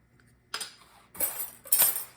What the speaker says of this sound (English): So I'm going to add a 4th teaspoon of cinnamon to this.